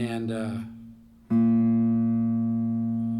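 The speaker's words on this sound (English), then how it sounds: "I want to give you the A on my guitar" Someone speaks briefly, then a single guitar note, an A, rings out clearly and sustains, slowly fading.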